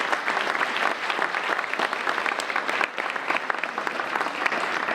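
A large audience at a United Way of Greater Plymouth County annual meeting gives steady, dense applause, continuous and fairly loud from start to finish with no talking.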